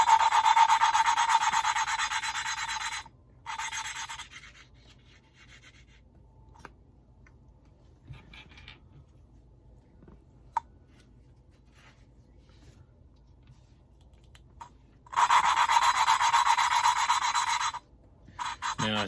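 Lapping a Kawasaki Z125 engine valve with lapping paste makes a close, loud gritty rubbing that runs for a few seconds, drops into near silence, then returns just as harsh.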